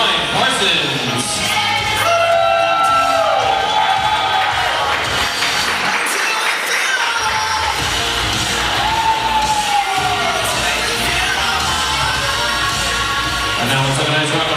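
Wedding guests cheer, whoop and yell for the bridal party as it enters, a loud continuous crowd roar with scattered shouts and music beneath, briefly thinning in the middle.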